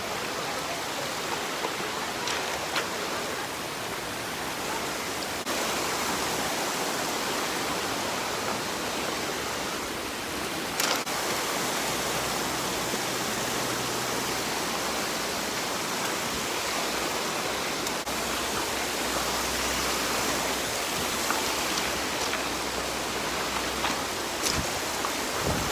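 Steady rushing water roars continuously at the base of Bridal Veil Falls in Utah, a broad hiss like a waterfall heard up close, with occasional faint knocks and no voices.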